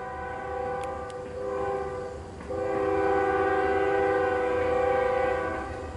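A CN freight train's horn sounds at a Wyandotte, Michigan crossing on Alfred Street: short blasts early on, then a long, loud, sustained chord that holds steady to the end.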